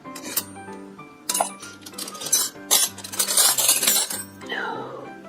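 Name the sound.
silver-plate spoon tossed into a pile of flatware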